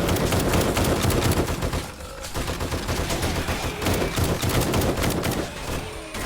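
Base turrets firing at zombies in 7 Days to Die, rapid continuous automatic gunfire in dense bursts with a brief lull near two seconds, loud and close.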